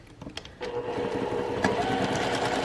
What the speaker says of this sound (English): Stitching this 1/4 of an inch.